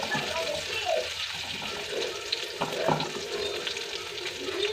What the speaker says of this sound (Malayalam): ഇനി നല്ലപോലെ മൂപ്പിച്ചെടുക്കാം